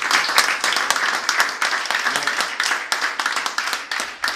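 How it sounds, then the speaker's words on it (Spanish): Congregation applause at a Spanish-language church service, a steady wash of many hands clapping with sharp individual claps standing out, fairly loud and continuous throughout. "¿Cuánto le damos un aplauso?"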